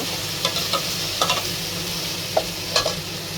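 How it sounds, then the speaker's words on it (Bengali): Ginger, garlic and onion paste fries in a hot pan for a beef curry, a steady close sizzle broken by repeated spatula scrapes and clinks as it is stirred, with no voices. "আদা রসুন পেঁয়াজ আমি দিয়ে দিচ্ছি নেড়ে একটু ভালো করে কষিয়ে নিব"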